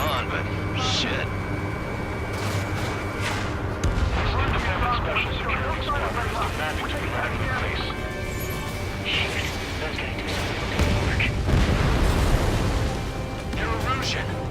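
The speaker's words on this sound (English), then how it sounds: "Jesus, they're firing at each other" Gunfire and explosions during an Ace Combat 7 air battle, a dense, continuous rumble of booms and cracks with engine roar, under frequent talking and radio chatter throughout.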